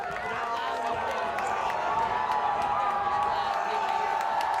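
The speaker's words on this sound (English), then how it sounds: "you hear the Durfee crowd getting loud here at the end of the half, trying to spark the team and the defense" A high school football crowd at Durfee vs. Dartmouth cheers and roars loudly at the end of the half, a sustained dense wall of voices and whoops.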